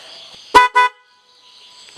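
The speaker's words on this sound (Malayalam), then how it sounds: "അപ്പോൾ ഞാൻ ഹോൺ അടിച്ച് കാണിച്ചു തരാം കേട്ടോ" A newly reinstalled vehicle horn sounds two loud, short honks in quick succession, followed by silence and a brief third toot at the very end.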